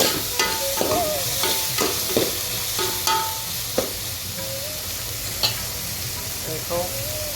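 Green chilies frying with browned onions in a pan: steady close sizzle with repeated scraping strokes of a spoon stirring, clear and fairly loud.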